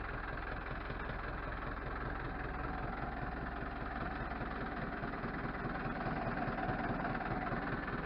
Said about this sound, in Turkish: Traktörümüz arkadaşlar Mahindra 5500.